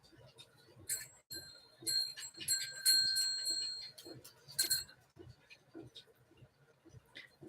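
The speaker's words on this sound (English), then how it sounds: "I'll put it down so the bell stops ringing." A small bell fixed to a handmade item jingles in bright, repeated bursts, loudest in the middle of the stretch and fading near the end, with a person talking quietly underneath.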